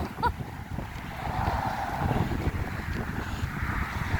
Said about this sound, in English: It's like a wind tunnel.